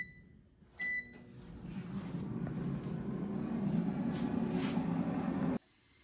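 An air fryer set to 400 degrees Fahrenheit for 12 minutes, cooking branzino fillets: a short beep, then a steady mid-level whirring hum of the fan that runs for about five seconds and cuts off abruptly.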